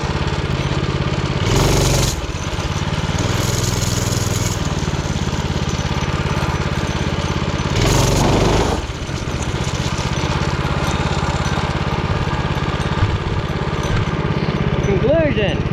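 A vintage mini bike's small engine runs loud and close during a wheelie test, holding a steady buzzing drone with a couple of short revving surges.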